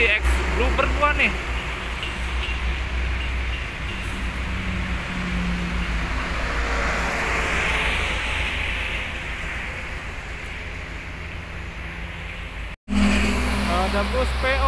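A PO Haryanto bus rushes past on a highway near kilometer 196 at Palikanci, Indonesia, with a broad swelling roar of engine and tires, traffic noise continuing around it, a voice briefly audible.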